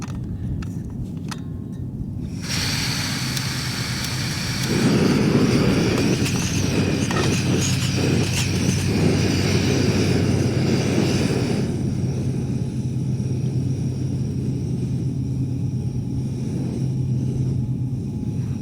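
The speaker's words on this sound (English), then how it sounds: "That's the sound of freight train just passing up by" A freight train passes in the distance near Klondike, a broad low rumble that swells in the middle and then eases off, steady and far away, with no talk.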